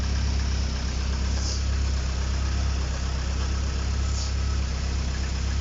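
An Opel Astra F 1.6 petrol engine with a freshly replaced stage 1 cam and rockers idles steadily, a continuous low droning hum that stays even and close for the whole stretch with no talking.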